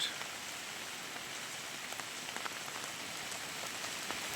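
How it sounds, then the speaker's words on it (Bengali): Steady rain falls over a rural village beside a paved road, a dense continuous hiss with scattered droplet taps, close and even throughout, no voices. "বৃষ্টি হচ্ছে গ্রামের বৃষ্টি হলে সব সবুজে ভরে যায়"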